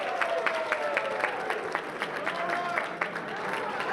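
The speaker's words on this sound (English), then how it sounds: "If everyone could join me in giving Rose a round of applause." An audience gives a round of applause at a Western Massachusetts appreciation event, steady crowd clapping with sharp individual claps, while voices talk over it.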